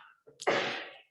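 A single sharp human sneeze bursts out at a public board of education meeting, brief and close, preceded by a quick intake of breath.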